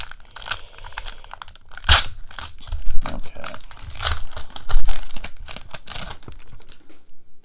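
Foil wrapper of a Magic: The Gathering Doctor Who collector booster pack torn and crinkled open by hand, close and loud, with sharp rips and crackles in irregular bursts before trailing off into quiet.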